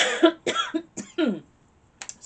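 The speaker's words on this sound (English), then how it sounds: "I don't want to keep coughing" A woman with a dry, scratchy throat coughs in a quick series of bursts, fairly close and loud, with a brief pause before one last short cough.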